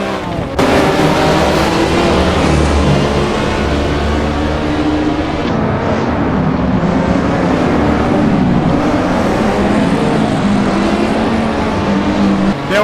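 A Lamborghini Miura from the 1960s drifts in a VR sim-racing game, its engine droning loud and steady with shifting pitch as the car slides, continuous from start to finish.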